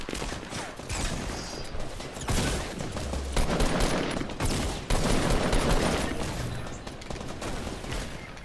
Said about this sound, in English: I hear shots to the right.